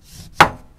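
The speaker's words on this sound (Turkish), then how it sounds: "Şimdi bunları ince ince doğrayacağım." A single crisp knife chop through a lemon against a cutting board, with a faint softer knock just after.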